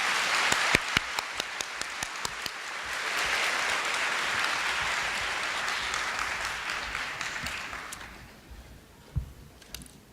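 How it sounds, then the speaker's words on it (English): Audience applause at a university international summer campus opening ceremony, a steady, full wash of clapping from a large crowd that swells, holds for several seconds, then fades out toward the end. "Please give them a round of applause."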